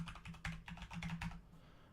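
Keys clatter on a computer keyboard while a username and password are entered: a quick, uneven run of close, light clicks lasting about a second and a half before trailing off, with no voices.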